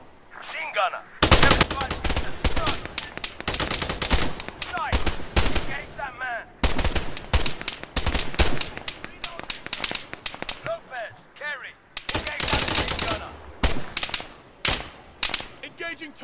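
Machine gun fire in the military shooter Arma 3, loud bursts of rapid automatic shots in several clusters separated by short pauses, close and sharp, with a man calling out between volleys.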